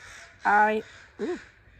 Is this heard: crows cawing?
yes